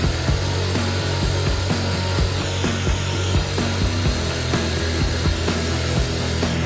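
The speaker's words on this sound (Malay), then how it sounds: "semasa kita membuat potongan di bahagian capillary tube ini" A refrigerator capillary tube is cut during repair of a two-door inverter fridge with a gas leak. Steady, rhythmic back-and-forth rasping saw strokes run close and loud throughout, with no talking.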